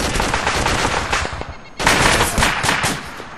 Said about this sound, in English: Contact! Taking fire.